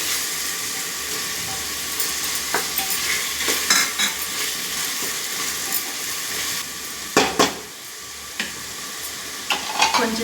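Tomatoes fry in a hot pan with ginger-garlic paste, a steady close sizzle broken by repeated scraping stirs of a spoon against the pan, with no talking.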